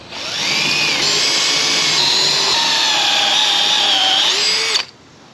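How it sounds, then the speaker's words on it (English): A power drill runs steadily into a wall for almost five seconds, its loud whining motor pitch wavering as the bit bites and slows, then cuts off abruptly. "So the drill bit isn't long enough"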